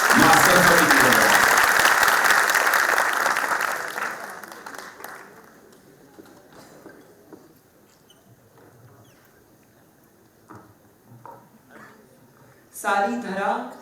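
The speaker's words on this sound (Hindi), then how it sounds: "एक बार जोरदार तालियां बजाएं" An audience at a poetry tribute event in Delhi gives a loud burst of applause that fades over several seconds into a quiet hall, followed by faint rustles and a short later flurry of claps.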